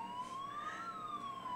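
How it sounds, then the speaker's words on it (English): A fire truck siren wails in the distance outdoors, a single slow rising and falling tone, faint and steady, with no talk over it. "Oh, is that the fire truck?"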